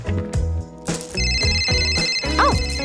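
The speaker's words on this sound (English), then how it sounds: "Oh! My phone." A mobile phone ringtone plays loudly over a music backing, a steady electronic melody with sustained high tones and repeating notes.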